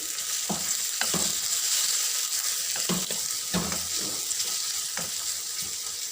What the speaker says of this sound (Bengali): তার আগে পেঁয়াজটা একটু নাড়া দিয়ে নিই